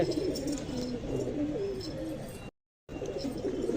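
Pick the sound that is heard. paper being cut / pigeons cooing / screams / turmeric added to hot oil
pigeons cooing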